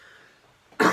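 A single sharp cough bursts out near the end, close and loud after a quiet moment with no talking.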